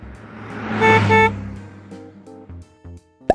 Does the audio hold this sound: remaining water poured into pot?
no